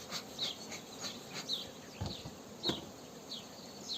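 Honeybees buzz faintly around an opened hive in a modern apiary, a soft, steady insect hum with a few louder passes as bees fly near.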